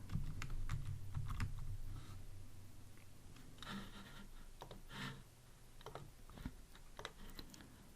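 Fast, uneven clicking of keys on a computer keyboard while code is typed, coming in short bursts and single taps at close range, quiet and with no voice over it.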